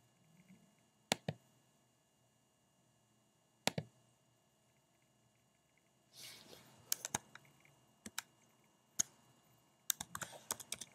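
Typing on a computer keyboard in a quiet room: isolated sharp key clicks at first, then quicker clustered keystrokes and a brief rustle, close and clear with no voices.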